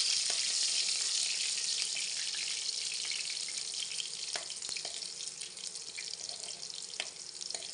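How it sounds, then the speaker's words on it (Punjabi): Garlic fries in hot oil with a loud, steady, close-up hiss and sizzle, broken by scattered pops and crackles, with no talking. "ਇਹਦੇ ਵਿੱਚ ਹੁਣ ਆਪਾਂ ਲਸਣ ਐਡ ਕਰ ਦਿੰਦੇ ਹਾਂ। ਲਸਣ ਨੂੰ ਆਪਾਂ ਹਲਕਾ ਜਿਹਾ ਬਰਾਊਨ ਹੁੰਦੇ ਤੱਕ ਪਕਾ ਲੈਂਦੇ ਹਾਂ।"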